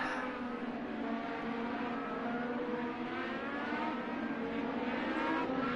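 IndyCar race cars on a formation lap at Texas Motor Speedway in Project Cars 2, a continuous close engine drone with steady layered harmonics, holding even in pitch and loudness throughout without talk.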